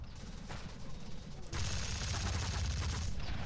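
Gunfire in the video game Sanctum 2, a continuous rapid automatic barrage that swells louder and heavier halfway through and keeps going steadily to the end.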